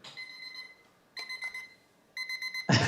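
A kitchen-style timer alarm goes off in three bursts of rapid, bright electronic beeping, each separated by a short pause, ending in a louder clattering noise.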